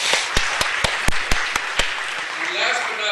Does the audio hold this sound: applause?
yes